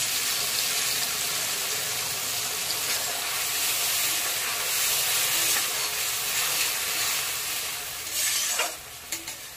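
Mustard and chili paste sautéing in a pan with tomato and mango for a sour mourola fish dish, a loud, dense hiss of frying with occasional stirring scrapes that settle toward the end.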